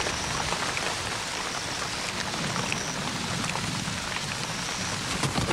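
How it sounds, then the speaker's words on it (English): Heavy rain pounds down across the Serengeti plains in a dense, unbroken hiss of drops, loud and steady throughout with no voices. "The rain pounds away for 2 hours"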